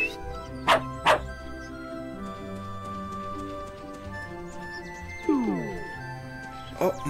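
A dog barks in the farming video game World's Dawn: two sharp yips early on, a falling whimper-like call, then another short yip, all over steady game music.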